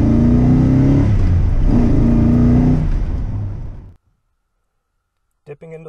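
A 1966 Oldsmobile 442 muscle car with a tri-carb setup and 4-speed gearbox roars loudly as it drives and accelerates, its engine rumbling steadily for about four seconds before the sound cuts out abruptly.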